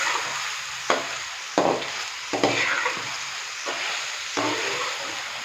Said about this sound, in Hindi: चिकन डालने के बाद अभी मैं इसको अच्छे से मिक्स करूंगा।